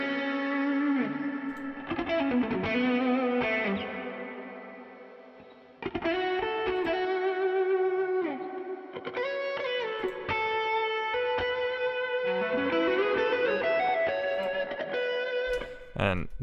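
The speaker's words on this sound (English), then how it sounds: "on this lead channel or group, we've got a little bit of reverb for the stereo image, and we've got this kind of absurd looking EQ." A distorted, chorus-tinged lead synth line with reverb and heavy EQ on a lead channel of an electronic track, playing sustained gliding notes with pitch bends, loud and up front and fading briefly midway.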